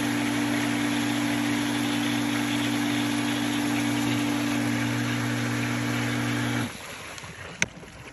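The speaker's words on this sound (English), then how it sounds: "We're gonna rotate to rinse and start the pump back." A swimming pool pump runs with a steady, loud mechanical hum and drone for several seconds, then cuts off abruptly, leaving a quieter background and a single brief click.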